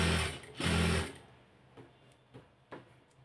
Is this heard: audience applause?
no